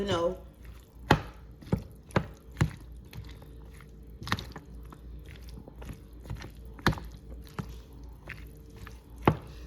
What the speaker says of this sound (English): we want to stir this good because we want to make sure that all of the pasta has the same flavor